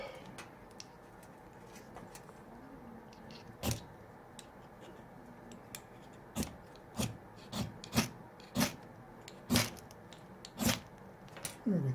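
Scraper drawn across a stick of fatwood to start a fire, a series of short, close, dry rasping strokes, spaced at first and then coming quicker and more regularly.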